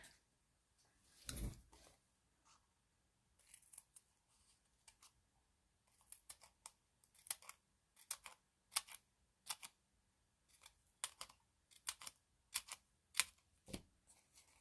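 Scissors snipping paper for a handmade zebra-themed card, a series of crisp, quiet close snips, sparse at first, then a quicker, fairly regular run of cuts, with no voices.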